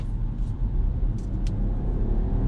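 A 2020 BMW 118i engine drones steadily with a low rumble, building gradually as the car accelerates in a 60 zone; a brief shift in tone as the gearbox kicks down.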